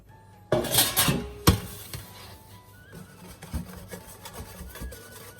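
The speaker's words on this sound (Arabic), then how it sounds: "تخلط السكر مع السميد" Sugar and semolina being mixed in a bowl, a few loud scraping, clinking knocks at the start followed by softer gritty rubbing and stirring up close, no voices.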